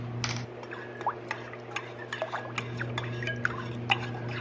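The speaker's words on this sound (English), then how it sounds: "and then we'll stir it around." Hydrogel water crystals stirred in a bowl, giving soft wet squelches and light clinks against the bowl over a steady low hum, close and fairly quiet.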